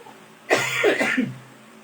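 A single harsh cough bursts out close by, breaking into a few rough, throaty pulses that fade within a second.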